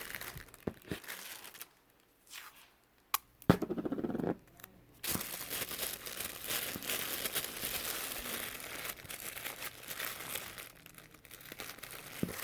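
Wrapping paper crinkles and rustles as its sides are folded in over a gift, close-up and fairly steady, with a few brief quiet gaps and sharper crackles near the start.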